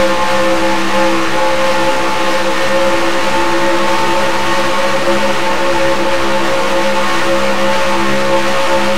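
The engine of the number 20 STP Honda race car roars steadily at high revs from an onboard position, a loud, sustained whine close to the microphone with no voices.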